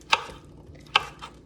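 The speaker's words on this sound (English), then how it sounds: "we've got our whole cucumber that we are dicing up" A knife strikes a cutting board twice while dicing a whole cucumber into small cubes, each cut a sharp, close tap about a second apart, with a fainter third knock after, over a quiet kitchen background.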